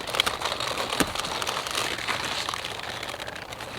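Garden scissors hack through a tough cauliflower base in a no-till garden bed, giving close, dry crunching and crackling with rustling leaves and a sharp snap near the middle.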